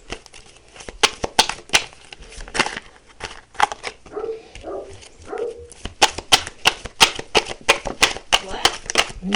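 Rapid crisp riffling and snapping of an Archangel oracle card deck being shuffled, a quick series of papery clicks in bursts with a short pause midway, close and fairly loud.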